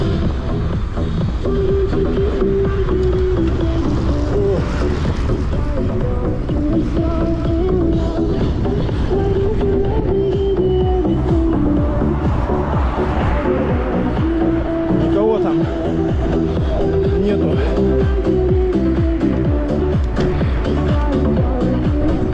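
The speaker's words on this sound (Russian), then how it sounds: "Ветер фигачит, не дает разогнаться." Strong wind roars steadily and loudly across an open road in Crimea in April, buffeting continuously throughout, with a voice speaking briefly over the rushing gusts.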